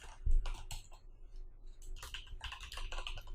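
JavaScript code is typed on a computer keyboard, a quiet, close run of irregular key clicks that pauses briefly, then picks up again in a quicker burst.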